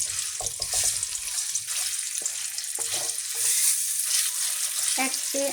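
Marinated chicken frying in about three tablespoons of hot oil, a close steady sizzle broken by clatters and scrapes as the pieces are moved around, with no talking.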